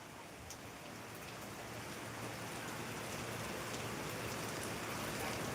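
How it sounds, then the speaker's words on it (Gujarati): Heavy downpour of rain during a storm in Bayad, falling as a steady, dense hiss that swells slightly louder over the few seconds, with no voices. "વરસાદનું આગમન થયું છે"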